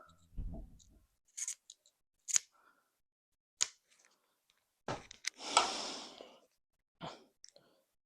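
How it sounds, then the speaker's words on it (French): Scissors snip through hockey stick tape in a few separate quiet cuts, with soft rustling and handling of the tape between them in a quiet room. "C'est là que vous aurez besoin des ciseaux. Fait que là, on vient couper."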